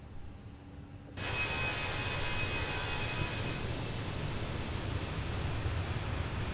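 Engines of a Ryanair PMDG 737-800 in Microsoft Flight Simulator 2020, a steady broadband jet roar that surges in after a quiet second and then holds constant and faint with a low rumble underneath.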